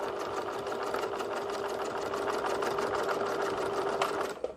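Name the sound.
sewing machine stitching a seam in fabric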